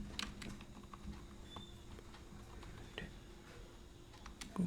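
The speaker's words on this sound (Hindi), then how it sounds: "तो टाइप कर लेते हैं कार्बन" Quiet computer keyboard typing during a lesson on Group D exam answers, soft scattered key clicks over a low room hum with no voice.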